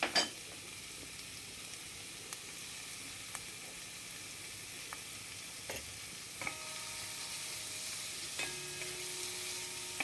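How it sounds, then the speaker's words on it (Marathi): Finely chopped spinach sautéing in a pan, a steady soft sizzle and hiss running throughout with a few faint clinks and stirring scrapes, close and fairly quiet, no voices. "पालक छान परतून घ्यायचा मॅश होऊस"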